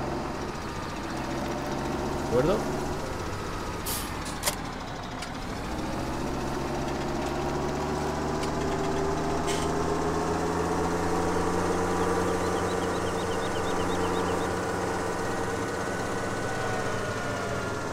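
In Farming Simulator 2017, a tractor engine idles and runs with a steady, droning mechanical hum and a few clicks and knocks. Someone speaks a couple of words of Spanish over it.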